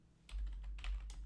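Quiet keystrokes on a computer keyboard type a short command as a quick run of soft clicks in uneven bursts, close by with no talk.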